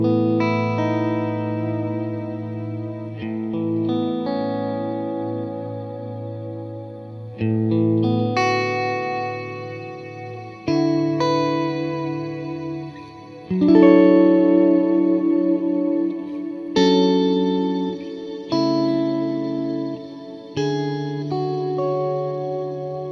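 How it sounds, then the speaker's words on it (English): Electric guitar played through a Line 6 Helix long plate reverb preset, chords and notes ringing out into a wide, spacey wash of sustained reverb tails, steady and fairly loud with no talking. "long plate, which to me sounds a little bit like that spacey cloud thing"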